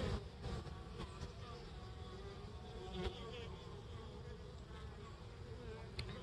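A dense, steady buzz of many honey bees flying close by at the hive in January, a continuous droning hum with occasional louder passes near the listener.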